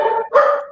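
A single dog gives one short two-part bark, close and fairly loud, heard alone with no talk.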